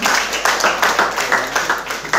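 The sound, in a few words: congregation clapping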